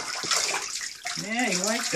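Warm water runs into a bathtub while a dog is bathed, a steady near rush of pouring water with a person speaking over it.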